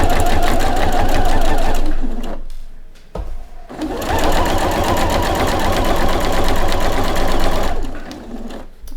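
Domestic sewing machine running a straight-stitch seam around fabric, a close, rapid rhythmic chatter in two long runs separated by a brief pause and a clunk.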